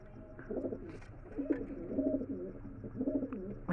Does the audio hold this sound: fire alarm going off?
no